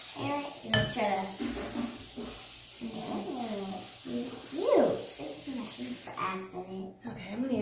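Homemade slime stirred in a bowl, with utensil clinks and scraping against the dish, sounding under near-constant chatter from people nearby.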